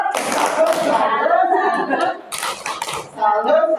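A group of workshop participants performs a rhythmic salute clap, short bursts of hand claps mixed with voices talking over them in a room.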